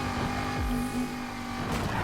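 A race car engine in the video game Need for Speed Heat, revving hard and continuously with shifting pitch as the car accelerates through a lap, loud and close throughout.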